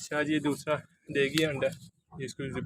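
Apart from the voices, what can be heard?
No everyday noise stands out behind the speech.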